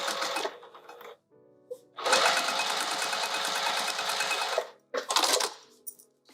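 Sewing machine stitching binding along the top edge of a fabric pouch, running in steady fast bursts: one short run, then a long continuous stretch, then another brief run, close and clear with no talk.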